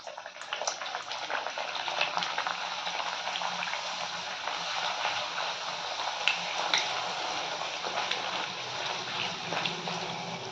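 Luchi, puffed Bengali flatbread, frying in hot oil for a Maghi Purnima festival meal, a steady close bubbling sizzle with faint crackles running throughout, no voices.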